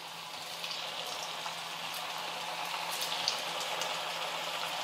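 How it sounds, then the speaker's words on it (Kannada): Chakli dough pieces dropped into hot oil on a medium flame, a steady bubbling hiss of deep frying that holds evenly throughout at moderate loudness. "ಈಗ ಒಂದೊಂದೇ ಎಣ್ಣೆಗೆ ಬಿಡ್ತೀನಿ ನೋಡ್ರಿ."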